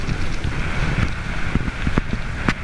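Strong wind roars and buffets the microphone at a Himalayan base camp after heavy snowfall, a steady broadband rush with occasional sharper gusts and flaps, close and loud throughout with no talking.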